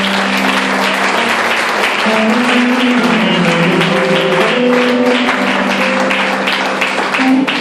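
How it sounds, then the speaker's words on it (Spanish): Congregation applause at an evangelical church service: steady, dense clapping fills the room throughout, with sustained tonal music or voices running beneath it. "¿Cuánto le dan un aplauso a Cristo?"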